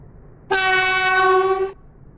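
A train horn in the Roblox game Stepford County Railway sounds one sustained, loud, harmonic blast of about a second over quiet station ambience.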